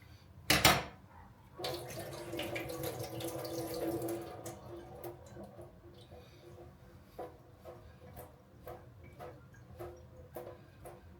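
Water splashes and trickles in a sink as black olives are drained, with a sharp clatter near the start followed by softer scattered drips and clinks.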